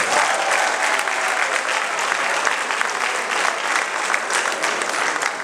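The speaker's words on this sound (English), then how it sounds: "You guys should clap for yourselves." A crowd at a talk claps loudly and continuously, a bright, dense roar of hands close by that holds steady for about five seconds with no one speaking over it.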